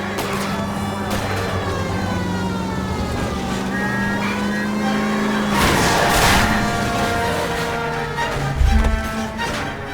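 Car engines roar during a chase in L.A. Noire, loud and continuous, with a wailing siren on top and a brief thump near the end.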